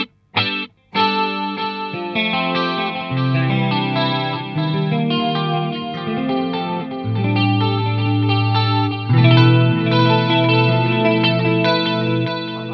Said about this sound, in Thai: ตอนนี้เปิดเอฟเฟกต์2อย่างคือคอรัสแล้วก็ดีเลย